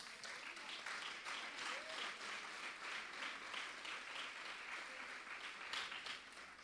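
A church congregation applauds, a dense crowd of clapping that is steady, rhythmic and somewhat distant, with scattered voices mixed in.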